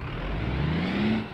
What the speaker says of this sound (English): Rev it up and launch it.